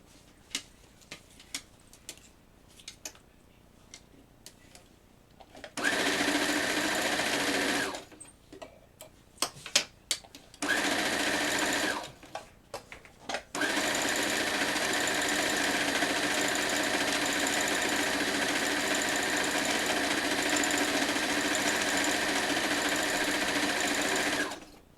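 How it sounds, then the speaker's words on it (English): Sewing machine stitching a T-shirt quilt seam, short bursts of rapid mechanical clatter that build into long steady runs of close, loud stitching. "Alright, so now I'm going to flip this over and sew the other side."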